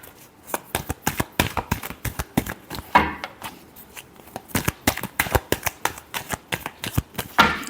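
A deck of tarot cards being shuffled by hand, a quick series of crisp riffling snaps and soft slaps close up, in bursts with brief pauses between them and no talking.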